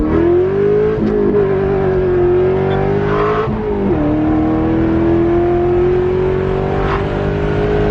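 A wide-body Corvette Z06 on 345 rear tires accelerating hard with the rear losing traction, its loud engine note close and continuous, climbing through gears with brief dips at shifts.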